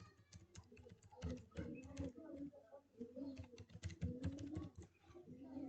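Fingers type an email address and password on a computer keyboard in quick, uneven bursts of close, crisp key clicks, with brief pauses between runs.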